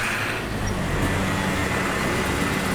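Busy street traffic in Puerto Plata with many motorcycles, cars and trucks: a dense, continuous roar of engines passing close by, loud and unbroken throughout.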